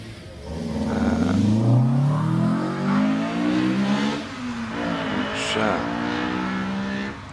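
A Honda S2000 race car accelerates hard off the start line at a club hill climb, its engine note climbing through rising revs, loud and close, with a commentator talking over it.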